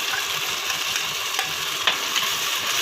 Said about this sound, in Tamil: இந்த தக்காளி நல்லா வதங்கணும்